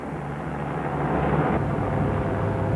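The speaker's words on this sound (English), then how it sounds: "That is the voice of Ed Meckenbauer speaking from the jet fighter you just saw" An A-7 jet fighter flies over an air show, a loud broad roar that swells slightly and holds steady across the whole stretch.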